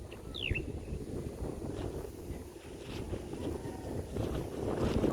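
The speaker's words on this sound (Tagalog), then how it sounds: "Ay, lakas ng hangin." Strong wind at a house construction site during beam installation, gusting as a broad rumbling rush that buffets the microphone throughout, with a brief high squeak near the start and no speech.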